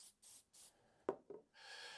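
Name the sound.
spraying a 3D-printed chimney part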